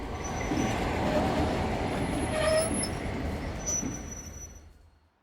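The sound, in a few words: train arriving on a track, sound effect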